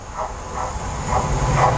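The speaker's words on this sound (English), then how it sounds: "Got a second container train of the day now, about to pass through Market Station." A container freight train rumbles through Needham Market station nearby with a steady low drone and a faint hiss, rhythmic swells marking the passing cars.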